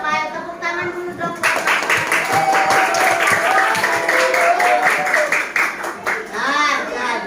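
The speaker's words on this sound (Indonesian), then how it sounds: "tepuk tangan dulu dong" Students in a classroom break into clapping after a child answers, a burst of many small hands slapping in quick rhythm starting after a brief spoken moment, loud and close with children's voices over it.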